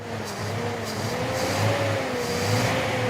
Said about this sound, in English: Whoa, we got a running 260Z. Sounds a little bit like an American car